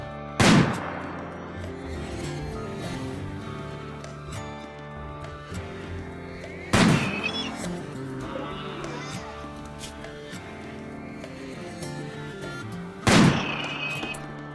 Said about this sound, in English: I'm totally fine using a sniper rifle to finish the finish off a scyther at close range